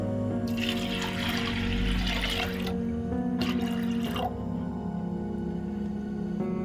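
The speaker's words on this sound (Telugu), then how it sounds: "ఇప్పుడు ఇందులో వాటర్ పోసుకుందాం" Water pours noisily into a pot of washed lentils in two bursts, a longer stream then a shorter one, followed by quieter dripping.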